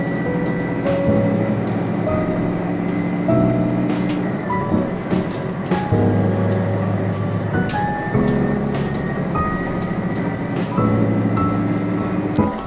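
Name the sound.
Watarase Keikoku Railway train arriving at Nakano Station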